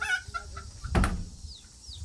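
Chickens, including roosters, clucking briefly nearby, with a sharp fowl call standing out in the middle over a quiet farmyard background.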